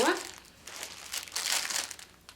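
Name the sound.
crinkling packaging while unwrapping yarn skein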